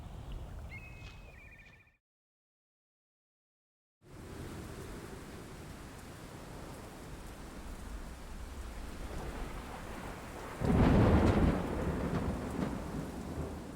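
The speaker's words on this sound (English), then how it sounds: "the spring rains are one of the great gifts of the year" Spring rain falls steadily over Iberian woodland while distant thunder rolls in, one swelling rumble after a brief silence near the start, with rain hiss continuous and no voices.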